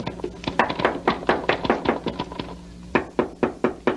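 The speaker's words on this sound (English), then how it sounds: "You get to the top, just bang on the trap door." A fist bangs hard on a wooden trap door in an old radio drama, a rapid run of loud, heavy knocks that pauses briefly and then resumes in a second burst.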